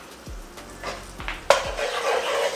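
An egg is cracked into a pan on a gas stove for butter fried rice, with a few low taps and knocks before a sudden burst of sizzling that spreads into a steady, close frying hiss.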